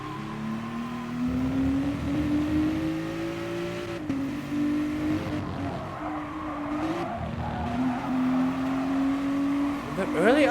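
In GT Sport, a race car's engine whines and rises as it upshifts out of the final corner, with pitch jumps at each gear change and faint tyre noise, all under a commentator talking.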